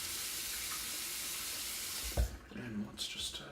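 Running water hisses from a tap for a few seconds before stopping, followed by a few soft splashes and wet sounds as water meets shaving lather during a wet shave.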